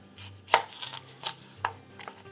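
A knife slices a sweet pepper into rings about a quarter to half inch thick on a cutting board, four or five crisp separate cuts at an uneven pace, close and clear with no talking.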